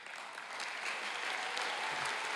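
Audience at a Chestatee High School graduation ceremony for the class of 2023 applauding, a dense, steady wash of clapping from many hands that swells slightly and holds for a couple of seconds without any voices.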